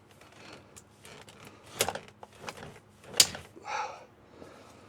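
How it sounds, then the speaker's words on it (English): Pressing a sprung door on a GMC 2500HD pickup back into place sets off a string of metallic clunks, creaks and a sharp clack, with a brief scraping rattle near the end, close by. "Just going to be pushing on the door"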